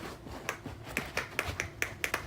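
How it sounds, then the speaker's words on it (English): Sharp single hand claps at home, urging a dog named Butter to run, about ten crisp claps in a quick, fairly even rhythm, close and distinct over a quiet indoor background. "I literally am doing nothing but clapping,"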